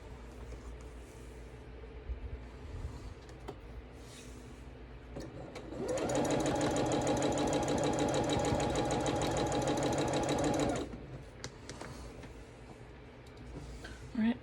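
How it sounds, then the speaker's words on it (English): Home sewing machine stitching quilt pieces together, a fast steady mechanical whirring and clatter for about five seconds, close and loud, with someone talking before and after it. "This was going to take us a while to sew, but it's really not. It's going together very quickly."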